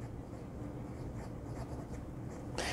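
A Chinese pocket fountain pen with a smooth fine-to-medium nib writes on paper, a steady close scratching that runs alone throughout and ends in a sharper, louder stroke.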